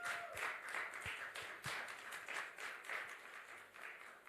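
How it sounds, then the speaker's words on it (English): An audience applauds a panel speaker at a Nigerian live-streamed event, fairly faint scattered clapping with a few louder nearby claps and a low hum in the room. "A round of applause, please."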